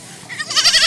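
A hungry goat gives one loud, close bleat that swells quickly into a wavering, quavering cry and holds to the end, with no voices over it.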